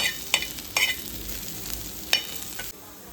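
Food sizzles and is stirred in a hot pan for a bitter gourd (hagalakai) dish, a steady fry hiss broken by several sharp scraping stirs.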